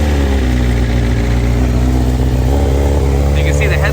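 A 2023 BMW S1000RR motorcycle running on E85 sits with its engine on, a loud steady close rumble throughout with a voice talking over it.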